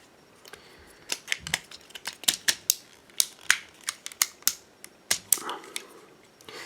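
A Transformers toy knee joint ratchets through a series of crisp, irregular plastic clicks, close and fairly quiet, coming in quick bursts with short gaps.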